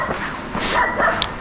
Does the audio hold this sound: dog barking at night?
yes